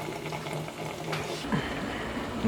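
Frybread dough deep-frying in hot oil in a home kitchen, giving a steady, close bubbling and sizzling that runs throughout at moderate volume, with no talk over it.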